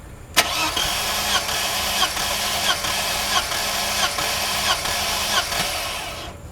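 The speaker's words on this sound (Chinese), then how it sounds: "接着我们要进行的是第三缸的缸压测试" A Mercedes R107 280SL engine cranks steadily for a third-cylinder compression test, with a click at the start and then a rhythmic, even churning of the starter for several seconds, close and loud.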